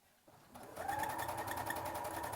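A sewing machine starts up and runs a straight seam joining two ends of fabric for a stuffed Easter bunny, building to a steady, rapid mechanical whir with fast rhythmic needle clatter, close and alone.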